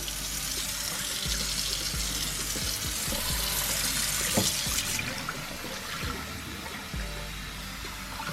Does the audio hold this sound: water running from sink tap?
yes